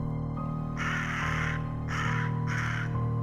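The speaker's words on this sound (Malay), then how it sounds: "Burung gagak tiba-tiba terbang rendah atas kepala aku." A crow caws three times in a row, loud and close, each harsh call lasting about half a second over a steady low hum, set in an eerie horror-story scene.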